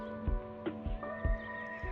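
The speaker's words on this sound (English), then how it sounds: "So there's a horse over there freaking out." A horse neighs in agitation nearby, a couple of whinnying calls mixed with short thumping steps or knocks, against a quiet farm background with no talking.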